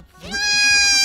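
A small goat gives one loud, close, rising bleat that swells and holds as a sustained nasal cry, with no talking over it.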